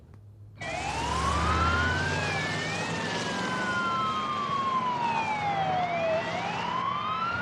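An ambulance siren wails and sweeps up and down in pitch, loud and continuous, as the ambulance races through blocked-off intersections in Austin toward a hospital.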